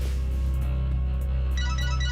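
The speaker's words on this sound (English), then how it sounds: "Taylor's phone rings this time." A phone rings in an episode of the horror TV series The Haunting Hour, a steady electronic ringtone over a low background hum that grows brighter toward the end.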